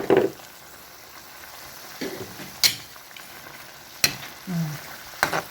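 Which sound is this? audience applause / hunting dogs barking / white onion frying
white onion frying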